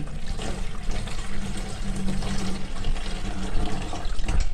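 Water steadily rushes and splashes as it is poured in from the side to fill a drum on a rooftop garden, a continuous close gushing with no pauses.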